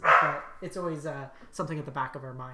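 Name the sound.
dog barking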